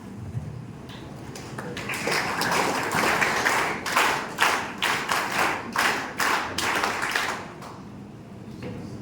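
Applause at a school declamation contest for a cadet from Pinaka House, starting sparse, swelling into a dense burst of clapping, then trailing off, with a few distinct loud claps through the middle.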